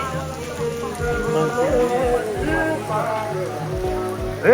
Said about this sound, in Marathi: पाऊस लई बेकार पडतोय.